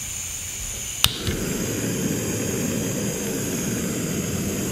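A Jetboil Flash camping stove burner ignites with a sharp click and then roars steadily at full flame, a close, continuous broadband hiss that holds level to the end.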